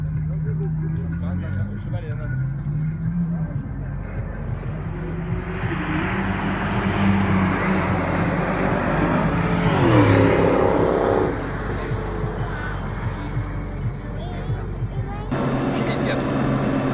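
A car accelerating hard on a race track, its engine note climbing and swelling through a long pull, then dropping back, with people talking over the steady engine drone.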